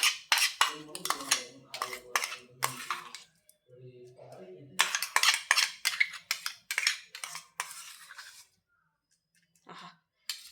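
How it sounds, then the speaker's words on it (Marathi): Maharashtrian thecha, a coarse chili paste, scraped and spooned into a bowl: repeated clinks and scrapes of a utensil against dishware in irregular bursts, close and fairly clear, with a short lull midway. "आता हे एका बोलमध्ये काढून घेते"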